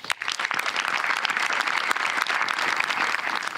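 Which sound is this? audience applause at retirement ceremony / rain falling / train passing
audience applause at retirement ceremony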